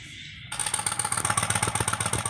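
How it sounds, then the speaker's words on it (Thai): A motorcycle engine in the video game Draw Bricks suddenly starts up and runs with a rapid, rattling pulse, loud and close, with no voices. "เดี๋ยวได้ขี่แมงกะไซแป๊บ"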